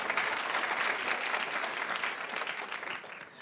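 Studio audience applause on a talk show, a steady wash of clapping at moderate distance that fades out near the end.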